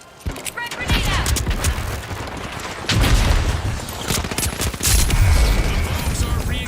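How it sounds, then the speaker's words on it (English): Rapid machine pistol gunfire in a video game, crackling bursts with booms and explosions in a busy firefight while players talk over it. "Machine pistol or something?"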